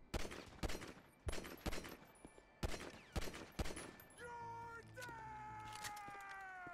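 Gunfire in GTA 5, a rapid string of sharp, loud shots in quick bursts over the first few seconds, followed by ringing electronic tones and a steady background hum.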